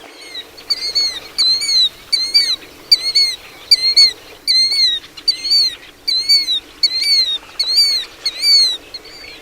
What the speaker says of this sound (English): the killdeer, so called because when calling it appears to be saying kill deer.